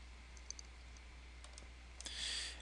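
A few quiet computer mouse clicks sound in a hushed room over a low steady hum, isolated light taps spaced apart, ending in a brief soft hiss.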